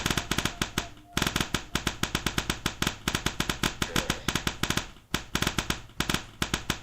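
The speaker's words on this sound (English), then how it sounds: "Rockets." A rapid stream of rockets launches in the game Fractal Block World, sharp popping bursts firing in fast irregular succession, loud and close, with brief pauses around one and five seconds.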